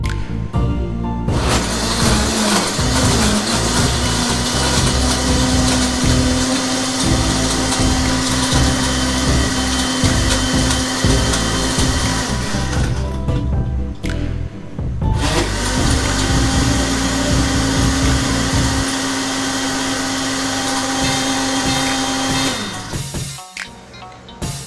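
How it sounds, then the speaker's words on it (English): A blender purees a non-alcoholic piña colada with ice, a loud, harsh whirring roar that runs in two long bursts separated by a short pause, with no talking over it. "If your blender has a puree button on it, go ahead and use that option."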